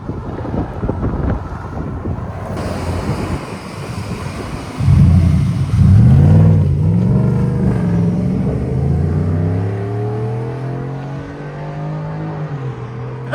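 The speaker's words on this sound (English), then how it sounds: "And then we did the exhaust Dynomax race bullet." A 2024 Ford F-150 pickup with a 5.0L V8 and Dynomax Race Bullet exhaust revs and pulls away outdoors, a deep rumbling engine note rising and falling under heavy wind noise, loudest midway as it accelerates.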